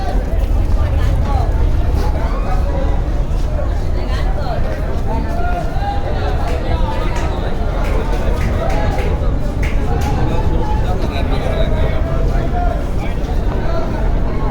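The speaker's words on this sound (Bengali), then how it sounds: "ওই সেট থেকে ব্যাক গিয়ার দিয়ে যাচ্ছে পারাবত এগারো" Passenger river launch backing away from the dock at a busy Barisal terminal, a steady rumbling engine wash under crowd babble and nearby voices throughout.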